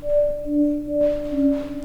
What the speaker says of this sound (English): distant reverbed sine wave